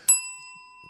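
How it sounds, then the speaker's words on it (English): A single bright bell ding strikes once, loud and close, then rings on with a clean sustained tone that slowly fades, with nothing else around it. "That's a bell ring"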